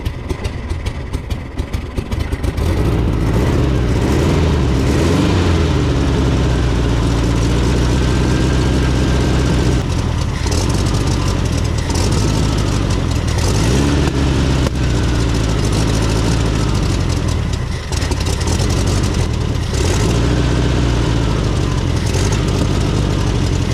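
A 1970s VW Beetle engine, abandoned for over 20 years and running on a freshly repaired carburetor, turns over and catches, then runs on as a loud, steady, rough idle with slight rises in revs.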